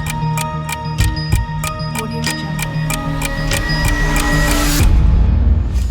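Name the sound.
countdown timer ticking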